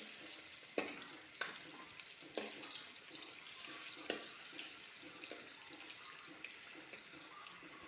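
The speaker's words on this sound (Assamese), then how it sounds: "ইয়াত আলুখিনি ফ্ৰাই কৰি আছোঁ।" Potatoes frying in a pan for a chicken dish, a steady close sizzle with occasional sharp clatters of stirring, no talk.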